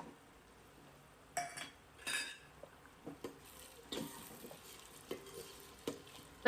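Golden onions with ginger-garlic paste sautéing in a pan for pav bhaji, a soft steady sizzle broken by a dozen or so spoon scrapes and clinks against the pan, close, with no voices.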